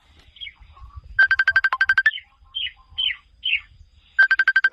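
A mobile phone rings with a bright, bird-like chirping ringtone. Rapid trilling bursts alternate with short whistled notes, then the trill repeats, loud and close with no talking.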